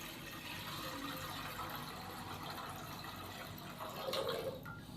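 Tap water runs into a cooking pot as roughly one to one and a half litres are added for boiling noodles, a steady close rushing pour with a brief louder gush near the end.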